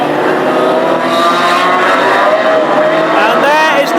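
Classic hot rod race cars at Hednesford thunder around the oval in a dense pack, engines droning and revving continuously and loudly as they lap slower back markers, with a race commentator talking over the roar.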